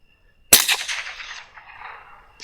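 Single loud, close rifle gunshot cracks sharply during a night hog hunt, followed by a long decaying echo rolling off across open ground.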